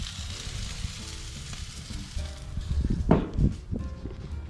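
Steak sizzles steadily in a hot pan at around 375 to 400 degrees at a camp cooking setup, with a brief louder burst of frying near the end.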